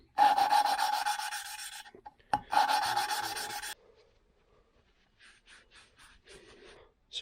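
A motorcycle engine valve from a 2005 Suzuki RM-Z450 is lapped against its seat with a worn suction-cup lapping spindle, giving two close, loud bursts of gritty back-and-forth rasping, then quieter scattered scraping.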